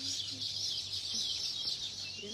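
Many birds chirp continuously in a high, busy chorus, fairly faint, with a low hum and a few clucking sounds beneath.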